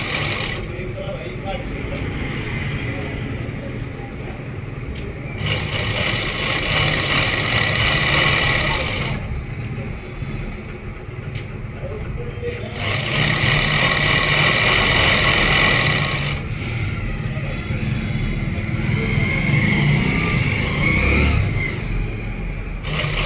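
Sewing machine running straight stitches along Afghani-style pants, a steady mechanical whir that swells louder in two long bursts between quieter running stretches, with no talk over it.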